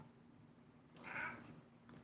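A cat lets out a single short meow close by, rising briefly out of a quiet room with a faint steady hum in the background.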